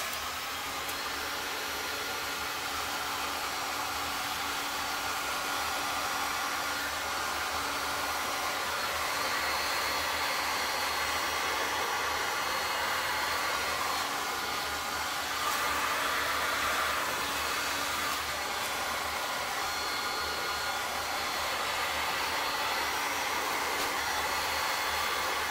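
A hair dryer blows continuously on a wet resin wave pour, a steady close whooshing roar with a constant motor hum that holds its level throughout.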